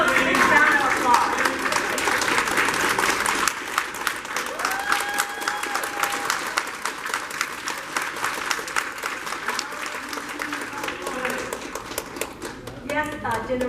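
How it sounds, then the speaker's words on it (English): Applause from an audience at a tribute event honoring a general's wife, steady and sustained throughout, with voices talking over the clapping. "You give her a big round of applause."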